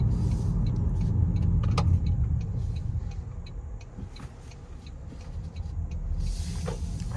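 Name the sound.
2025 Toyota Camry SE driving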